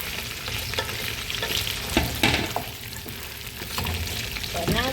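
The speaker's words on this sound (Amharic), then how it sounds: "ስጋችን እንደዚህ ጥብስ እያለ ነው" Rib meat fries in oil in a pan, a loud, close crackling sizzle with scattered pops and spatula scrapes, steady throughout with no voices.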